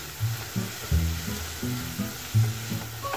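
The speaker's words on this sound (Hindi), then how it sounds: "नमक डाल के इसे मिक्स कर लेते हैं" Carrots and mixed vegetables sizzling in a pan while being stirred, a soft crackle broken by repeated scraping and clacking strokes of a spoon at an uneven rhythm, close and fairly quiet.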